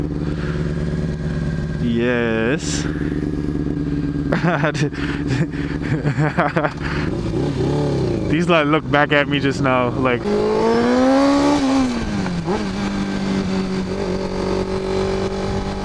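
A Honda CBR 600 motorcycle rides through town traffic, its engine humming steadily with revs rising and falling and wind noise throughout, while the rider talks over it.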